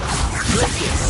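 The Confringo spell cast in the wizarding game Hogwarts Legacy, a dense whooshing blast with crackling, fiery texture in the middle of chaotic battle noise.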